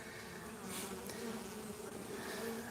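Young honey bees buzz steadily around a beekeeper at an open hive, a continuous close insect drone with a few louder passes near the microphone, no voices.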